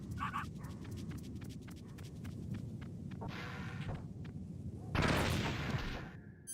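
A dog barks in the Metal Gear Solid video game on PC, a few sharp barks early on among game sound effects and a loud gunfire-like burst later, with no speech.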